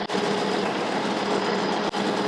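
A metal lathe runs at low speed, about 600 RPM, with a steady, even whir and a rapid mechanical chatter from its drive gears, close by and constant, with no voices.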